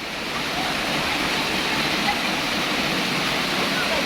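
A waterfall roars in a steady, loud, unbroken wash of falling water, filling the whole stretch without pause.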